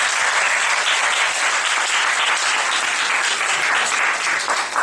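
Warm, sustained applause from a church youth service congregation, a dense and steady wash of many hands clapping together at close range, holding evenly throughout with no talk over it.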